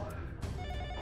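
An office desk telephone rings briefly in a short burst of bell tones, heard over background sound.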